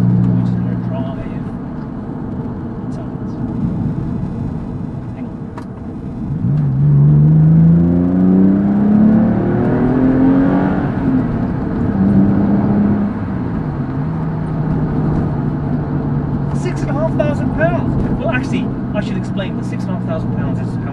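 The cheapest Porsche 911 in the UK is driven on the road: a steady engine drone and road noise fill the cabin, with a clear rising rev as it accelerates through the gears, and some brief sounds near the end.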